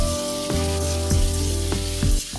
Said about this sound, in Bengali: রসুনগুলোকে নাড়াচাড়া করে দিয়ে দিচ্ছি কুচিয়ে রাখা গাজর,